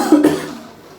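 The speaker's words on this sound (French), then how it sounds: "suis en pleine crise, j'arrête pas de tousser" A single sharp cough, close and loud, followed by a brief fading rasp.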